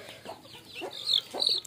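Clucking from a chicken newly brought to a village home, a few short bursts in quick succession, fairly close and getting louder toward the end, with no talk over it.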